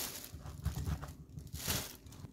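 A plastic bag crinkles and rustles faintly as salted eggplant pieces are moved into it, with soft irregular crackles and crunches close by.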